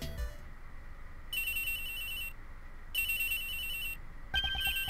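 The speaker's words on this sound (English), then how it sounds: "Oops, excuse me. Phone call, mind if I take this?" Phone ringing in the Ace Attorney Investigations 2 video game: an electronic ringtone sounding in two repeated bursts separated by silence, then a third starting, moderately loud against a quiet background.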